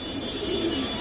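Big-headed silver pigeons give a low, soft cooing close by over a steady background hiss.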